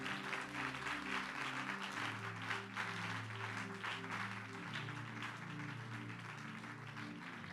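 Church congregation applauding steadily after a prayer, a dense wash of clapping under sustained organ or keyboard chords that continue throughout at a fairly even level.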